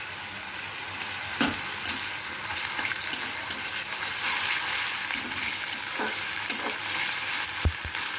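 Onion and garlic fry in a pan over rising heat, a continuous close sizzle with occasional stirring scrapes and clicks of a utensil.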